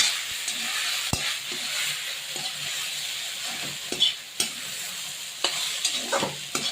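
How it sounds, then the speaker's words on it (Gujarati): Crumbled idli is stirred into a hot tempering with asafoetida in a pan over low heat, giving a steady sizzle punctuated by repeated sharp scrapes and taps of the spoon. "આ ઈડલીનો જે ભૂકો કરેલો છે એને આપણે એમાં નાખી દઈએ પછી હલાવી નાખીએ"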